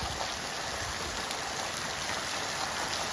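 Steady rain pours down in wet weather, a dense, even hiss with low patter holding constant throughout, no voices.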